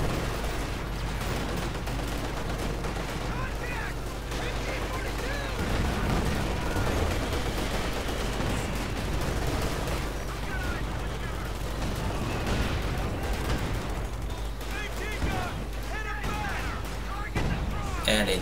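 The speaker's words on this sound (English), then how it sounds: "And a nice light artillery strike" A light artillery strike in Company of Heroes 2 amid ongoing battle: repeated booming impacts and scattered gunfire rumble continuously while someone talks over the action.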